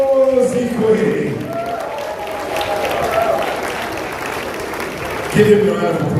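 An audience at a convention launch event in Benin City, Edo State, applauds a live performer in a broad, even swell of clapping, with a voice talking over the start and again near the end.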